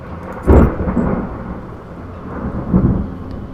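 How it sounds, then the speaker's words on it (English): Thunder from an approaching storm rumbles in two low, heavy rolls, the first sharper and louder, the second softer, with faint rain-like hiss between them and no voices. "It sounds like it's going to storm."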